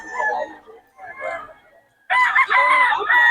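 Rooster crowing at a busy chicken market, with loud drawn-out calls, a pause, then a strong sustained crow close by, with faint crowd noise around.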